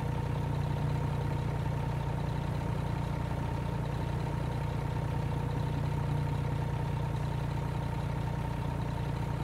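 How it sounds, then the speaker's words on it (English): A Peterbilt 389 truck with a Cummins ISM 835hp engine idles steadily throughout, a constant low rumble with a humming drone and no talk over it. "this engine here is nice"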